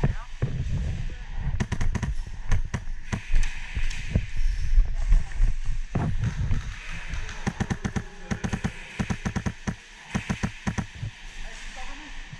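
Rapid bursts of gunfire in a shooting video game, clusters of quick cracks and booms at varying loudness, with voices talking over the shooting.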